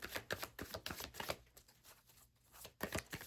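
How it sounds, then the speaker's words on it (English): A deck of Telepathy Oracle cards being shuffled by hand, giving repeated papery riffles and flicks in quick bursts, close and moderately loud, with a brief quieter gap in the middle and no talking. "The next deck I'm going to shuffle is the Telepathy Oracle cards."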